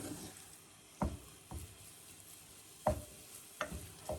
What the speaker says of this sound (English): Keep mixing it so it doesn't get stuck to the bottom and so it doesn't begin to burn